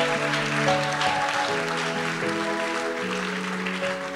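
Applause rising from a congregation at a French-language church service, a steady dense wash of clapping that fills the whole clip, with tonal music or organ sustaining underneath.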